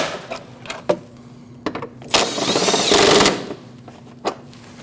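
Ratcheting clicks from a wrench snugging down 10mm nuts on the rear ABS wheel speed sensor bracket of a 2014-2023 Jeep Cherokee, close up, with a few sharp taps followed by a sustained burst of rapid ratcheting.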